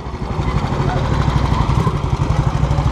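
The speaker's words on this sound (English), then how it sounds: "Couple of motorbikes, look." A couple of motorbikes at a 1940s-themed weekend event rumble past, a loud, steady engine drone with a throbbing pulse, continuous through the moment.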